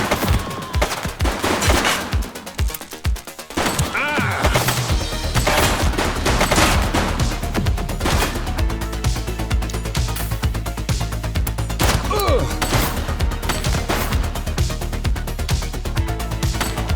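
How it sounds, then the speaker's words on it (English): Loud, sustained gunfire in The Precinct, a police video game: an opening run of sharp individual shots gives way to a dense, continuous fusillade of rapid bursts that fills most of the clip. "She's shooting!"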